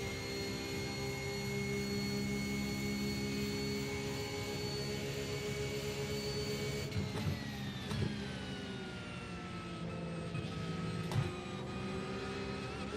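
A race car engine in the iRacing sim holds a loud, high steady whine, then drops pitch sharply on a late downshift, with brief blips and revs following, no talk.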